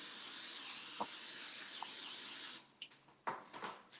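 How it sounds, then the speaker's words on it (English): Cooking spray hissing from a can onto a baking pan in a home kitchen, a close, steady spray lasting about two and a half seconds, followed by a few short handling clatters. "Oh, I better spray my pan."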